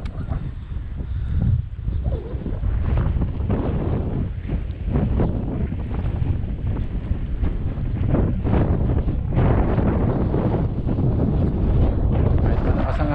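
Strong wind buffets the microphone out at sea during a fishing trip, a steady loud rumble with gusty surges throughout and water or boat noise beneath.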